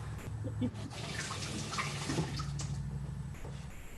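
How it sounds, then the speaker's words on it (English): A kitchen sink tap runs as garlic-covered hands are rinsed under it, a soft, steady stream of water with small splashes and shifting patter, fairly quiet and close, with no voices. "I have got lots of garlic on my hands, so I'm just gonna quickly rinse these off."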